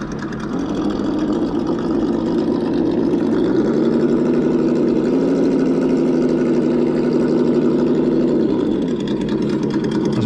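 An electronic engine sound module, the Sense ESS Dual fitted to a Cross RC EMO-X crawler, plays a steady idling engine drone that rises in revs midway and then drops back, heard alone and close.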